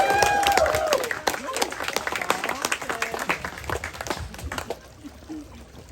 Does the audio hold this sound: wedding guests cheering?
yes